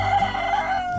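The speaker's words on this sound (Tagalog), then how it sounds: "Meron manok na kumakanta oh" A rooster crows loudly and close by, one sustained, wavering call lasting about a second with no talking.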